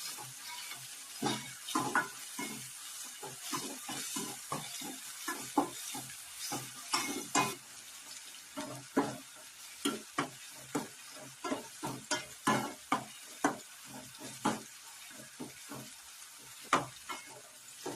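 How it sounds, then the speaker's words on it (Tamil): Onions sauté in a pan for chicken gravy: a steady soft sizzle runs under repeated rhythmic scraping strokes of a spoon stirring, close and continuous throughout. "வெங்காயம் நல்லா வதங்கிருச்சு"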